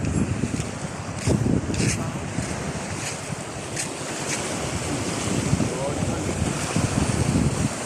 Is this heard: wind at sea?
yes